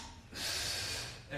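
One sharp, audible inhale through the nose while lowering in a rotating side plank during a golf fitness session, close and breathy, rising and then fading.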